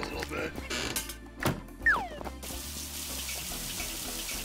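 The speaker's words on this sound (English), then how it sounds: "He's coming out here to take a shower" Running water from a shower in the Neighbours from Hell 2 video game, a steady rushing hiss with a brief squeaky cartoon effect partway through, mixed in with game music and sound effects.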